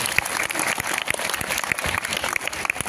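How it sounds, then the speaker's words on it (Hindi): A school audience claps for their teachers on Teachers' Day, with loud uneven bursts of applause and sharp individual claps in a lively crowd. "जोरदार ताली अपने टीचर्स"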